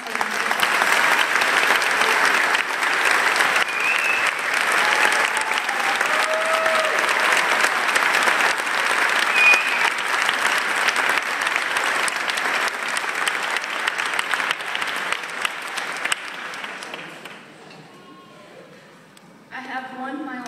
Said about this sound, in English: If you please give these students a round of applause.